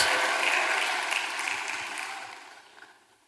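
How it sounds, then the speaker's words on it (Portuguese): A church congregation applauds during a Baptist communion service, a soft wash of clapping that fades steadily toward the end with no voices over it. "Aplauda o Senhor, dê um brado de vitória."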